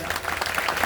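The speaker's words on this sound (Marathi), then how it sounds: "सर्वांनी जोरदार टाळ्या वाजवा" Audience at a devotional Bhagavat katha gathering in a Krishna temple clapping together, a brief, dense burst of applause at moderate loudness.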